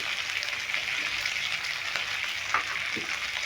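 Tomatoes and onions fry with a little salt in a pan, giving a steady close sizzle with faint crackles and a couple of soft utensil knocks.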